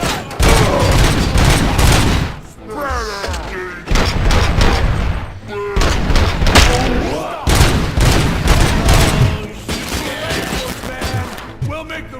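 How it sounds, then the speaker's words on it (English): Gunfire in the RoboCop: Rogue City video game, with bursts of heavy booming shots and rattling fire repeating in loud clusters, with short pauses between and game character voices talking over parts of it. "gunshots?"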